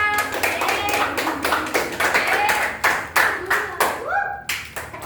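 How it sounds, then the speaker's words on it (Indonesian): An elementary classroom gives a student a lively round of applause, loud rhythmic group clapping in strong regular bursts, with a brief voice near the end. "Terima kasih untuk Husna dan berikan tepuk tangan yang meriah."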